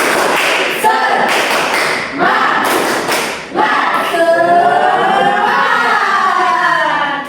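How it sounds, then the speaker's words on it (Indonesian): A classroom group claps out a spirit chant, a loud run of rhythmic slapping bursts with children's voices shouting and singing along, close and crowded. "Tepuk semangat."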